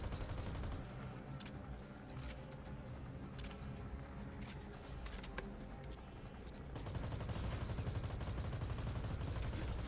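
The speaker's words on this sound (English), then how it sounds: "I'm gonna hope this small arms fire does something." Dense, continuous small-arms gunfire in Metal Gear Solid V: The Phantom Pain, a steady wash of overlapping shots and crackle that swells louder toward the end.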